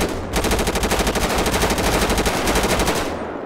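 Rapid automatic gunfire from a gun in the video game GTA 5, a loud, continuous burst of fast, evenly spaced shots lasting about three seconds, heard alone.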